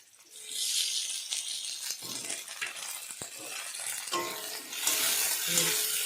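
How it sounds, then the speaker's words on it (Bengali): Onions frying in a pan for eel curry, giving a loud, hissing sizzle close by with occasional stirring scrapes and utensil clinks, swelling again toward the end. "পেঁয়াজটা লাল লাল হবে ভাজা"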